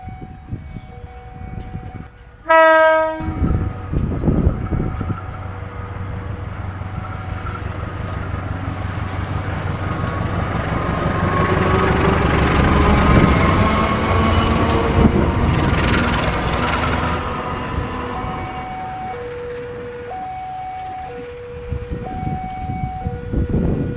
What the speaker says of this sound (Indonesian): itu dia lokomotif udah berjalan ke jalur 2 dan siap digandengkan ke rangkaian Probowangi.